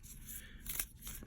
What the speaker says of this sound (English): I'm going to shuffle these 3 decks so I don't have to shuffle throughout the reading